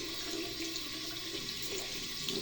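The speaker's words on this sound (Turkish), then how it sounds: "Hadi dişleri fırçanı yıka bakalım." Tap water runs steadily into a bathroom sink as a toothbrush is rinsed, a continuous close hiss and splash with no talk over it.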